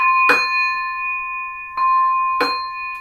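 Kyeeze spin gongs swing and ring out in three separate strikes, each a bright metallic clang followed by a long, clear, sustained hum.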